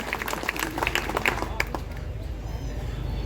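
Audience applause at a political speech about Jajpur's development, a dense patter of many hands clapping at moderate distance over low room rumble, with crowd murmur mixed in throughout.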